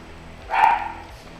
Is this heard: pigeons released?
no